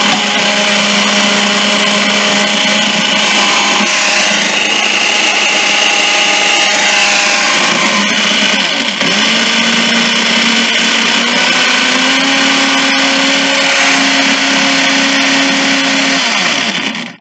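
A Kenwood blender runs on high through hot meatball and rice soup, a loud continuous motor whine that shifts pitch as the load changes, then cuts off at the end, with no talking.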